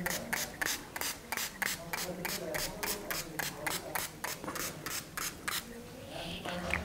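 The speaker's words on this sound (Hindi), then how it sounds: "अब मैं इस एरिया में अच्छे से स्प्रे करूँगी।" A bottle of Neud hair remover spray is pumped onto skin in a quick, regular series of short hissing bursts, about three each second, close and fairly soft, ending in a brief pause.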